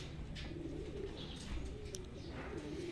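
A racing pigeon coos softly and steadily at a loft during a training release in Cabanatuan, Nueva Ecija, its low repeated calls set against a constant background hum of the outdoor setting.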